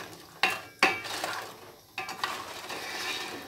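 A ladle stirs Andhra-style crab curry (pulusu) in a pot. It gives a few sharp metallic clinks and scrapes over a soft, quiet simmer, with no talking.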